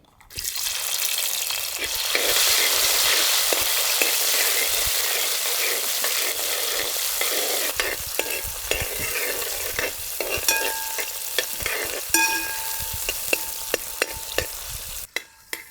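Onion and tomato frying in a large amount of oil with fennel and curry leaves for a village-style chicken curry, a loud steady sizzle with frequent ladle scrapes and clinks against the pot.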